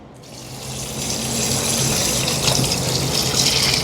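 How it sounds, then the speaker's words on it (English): Hot water poured from a basin into a bucket makes a steady, swelling rush of splashing liquid that grows louder and fuller over a few seconds, heard close with no voices. "I'm catching the basin of water, and I'm gonna pour it into the bucket"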